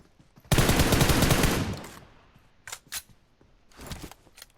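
Rapid automatic gunfire bursts loudly for over a second in PUBG Mobile on the Erangel map, followed after a pause by a few sharper shots and a short later burst, with no talk.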